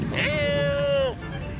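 A small stray kitten on the street gives one long, clear, rising-then-steady meow lasting about a second, close and loud, followed by quiet background.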